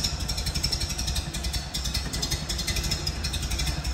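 A 1930 Model A truck engine running at a steady idle, an even low mechanical chug with light clatter, close and moderately quiet with no talking.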